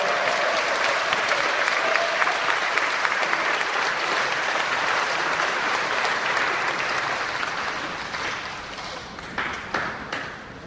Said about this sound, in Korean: 힘차게 박수 해주세요.